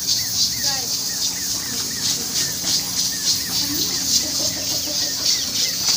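Chickens let out of their coop on a rural farm cluck and chatter continuously around a steady outdoor background.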